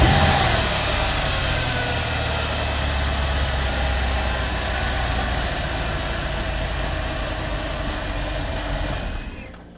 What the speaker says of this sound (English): Start the car up, let it run for maybe 10-15 seconds so it pumps up the oil through the oil filter and the whole engine.